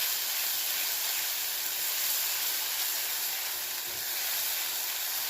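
Finely chopped onions frying in a pan with cumin seeds for a taro curd curry, a steady hiss and sizzle running evenly throughout, close and unbroken, with no talk.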